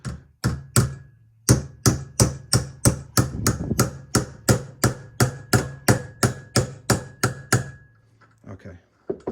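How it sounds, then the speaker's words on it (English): A hammer drives an old stem cap into a bicycle fork steerer on a Kona Dew, landing about twenty sharp, evenly spaced metallic blows close by, with a brief pause early on and a few lighter taps at the end. "And I'll just hammer it in"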